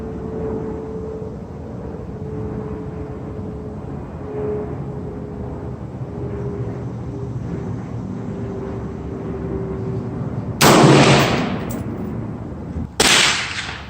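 An AR-10 rifle in 6.5 Creedmoor fires from a bipod on a bench, a single sharp, loud crack breaking a long stretch of quiet outdoor hum near the end, followed about two seconds later by another shorter burst.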